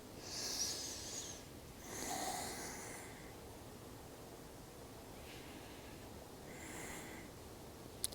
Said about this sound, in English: Two more big breaths here.